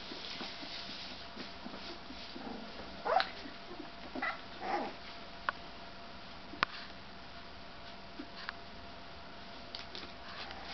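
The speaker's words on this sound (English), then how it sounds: "Nice warm puppies under my arm." Puppies held close under an arm make faint whimpers and soft snuffling sniffs at close range, with small intermittent squeaks and rustling over a quiet, steady background.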